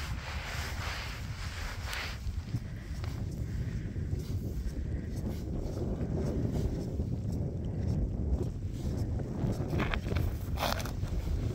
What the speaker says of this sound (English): We picking up the wind on here now.